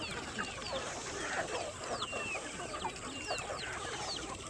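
Big farm birds clucking at feeding time, many overlapping clucks and squawks at close range forming a steady chattering flock with no talking.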